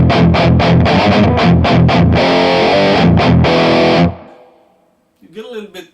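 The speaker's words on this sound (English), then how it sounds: "So, the Metal DS is the Boss Metal Zone" Electric guitar played through a Boss Metal Zone distortion model on a Kemper Profiling Amp: loud, heavily distorted palm-muted chugs in a quick rhythm, then sustained chords that stop abruptly, followed by a brief voice.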